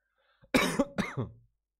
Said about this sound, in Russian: а то кашляю уже как старый дед